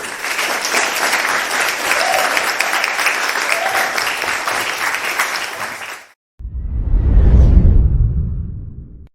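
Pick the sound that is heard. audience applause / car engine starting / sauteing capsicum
audience applause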